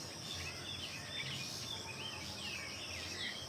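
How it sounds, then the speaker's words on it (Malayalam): Birds chirp and trill repeatedly in a hill-station setting, moderately distant over a soft constant insect-like hum, with no talking. "കിളികളുടെ സൗണ്ട് കേട്ടോ."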